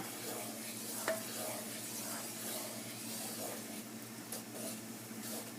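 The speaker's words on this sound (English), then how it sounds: "Just stir it every once in a while." Risotto with asparagus and shrimp, moistened with chicken stock, is stirred in a pan: a soft, steady scraping and gentle simmering hiss, faint and close, with no one talking.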